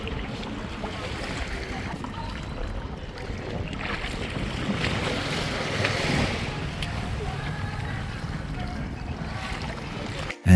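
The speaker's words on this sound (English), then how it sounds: "We're moving between the islands on a traditional Filipino bangka boat." A traditional Filipino bangka boat motoring across open water between islands off Siargao, with wind buffeting the microphone and waves splashing against the hull, continuous and loud.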